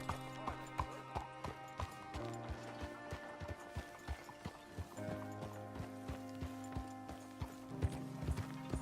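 Horse hooves galloping in Red Dead Redemption 2, a steady, rapid clip-clop rhythm, close and clear, with sustained musical tones underneath.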